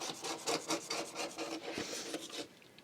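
Scrubbing a glass cooker hob by hand, a close, quiet, raspy rubbing in quick back-and-forth strokes that fades near the end, with no voices.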